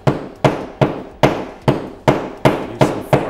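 A hammer strikes drywall during a wall repair. Eight evenly spaced, sharp knocks land at a steady rhythm about twice a second, close and loud, with no talking.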